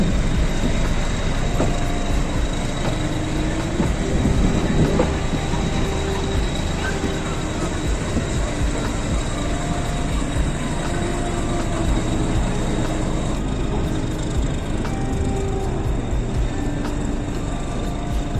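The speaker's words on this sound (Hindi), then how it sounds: "अब यहाँ से जो ट्रेन है वो थोड़ी एक्सीलरेशन करेगी और निकलेगी अपने गंतव्य के लिए" A meter gauge passenger train pulls out of Bahraich station toward Mailani and gathers speed. A loud, steady rumble of wheels and engine carries on throughout, with faint tonal whines running over it.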